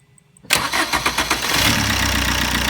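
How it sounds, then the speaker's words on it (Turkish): A car with a 1.3 Multijet diesel engine cranks and fires up after a short quiet moment, then settles into a loud, steady close-range idle. "Arabayı bir çalıştıralım."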